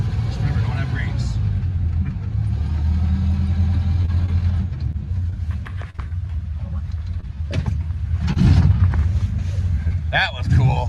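A vintage snowmobile engine rumbles steadily under continuous talk, its low drone rising somewhat toward the end, with outdoor noise around it.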